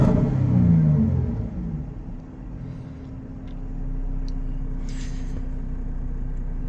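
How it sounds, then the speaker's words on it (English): A 2015 Jaguar F-type V6 with its active exhaust in dynamic mode gives a deep rumble that swells near the start, dips, then settles into a low, steady drone. "These cars sound absolutely amazing with this active exhaust."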